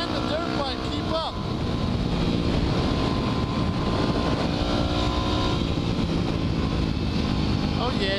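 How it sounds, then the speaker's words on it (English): A dirt bike engine runs steadily through a ride, its continuous loud buzz mixed with heavy wind rush against the microphone. "Oh yeah, dirt bike's keeping up."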